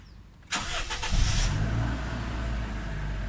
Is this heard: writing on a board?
no